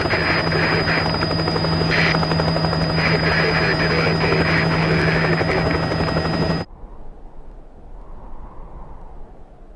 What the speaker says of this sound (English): let me show you what a jet and rocket powered car looks like running on Haxkey and Pan in 2 years' time